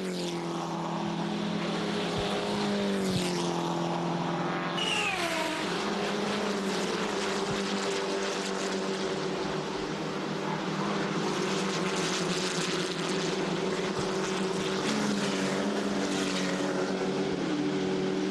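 Seat Leon Eurocup race cars lapping Brands Hatch in 2009, a steady sustained engine drone with shifting pitch as cars pass, continuous and fairly loud throughout, with no voices over it.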